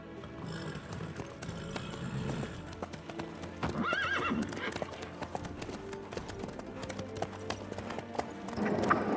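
Galloping horse hooves from The Witcher 3 video game, a steady clip-clop rhythm that runs throughout, with whinnies and neighs and in-game voices talking over it.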